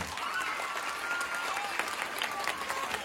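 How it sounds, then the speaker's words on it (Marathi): An audience at a Marathi women's game show breaks into brief, steady clapping from a crowd, sustained for a few seconds at moderate volume with no voices over it. "या आईला पुसताना त्या आईसाठी जरा जोरदार हातवर करून टाळी बघायची"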